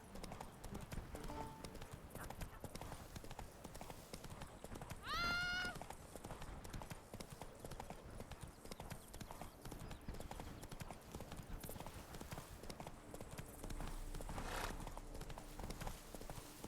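Horse hooves clip-clop at a steady gallop in The Witcher 3, a continuous rhythmic pounding with a brief whinny partway through, heard under quiet game ambience.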